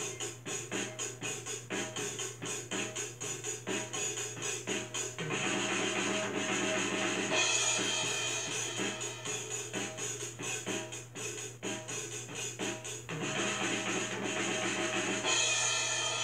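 A full drum kit played together, with bass drum, snare, hi-hat, high tom and crash cymbal in a fast, steady groove with dense repeated hits, occasional cymbal crashes washing over the beat, loud and close, no speech.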